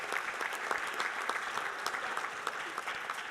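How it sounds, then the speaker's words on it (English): Audience applause for a 2018 Missouri Western State University Hall of Fame inductee at an induction ceremony, a steady dense wash of clapping from a large crowd, sustained and even throughout with no voices on top. "how about another round of applause for 2018 Missouri Western State University Hall of Fame member"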